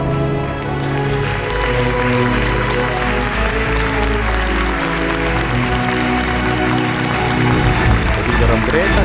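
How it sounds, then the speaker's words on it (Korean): Guests in a wedding hall applaud the groom as he enters. Steady clapping with some cheering sits under loud music that plays throughout. "따뜻한 박수를 부탁드리겠습니다."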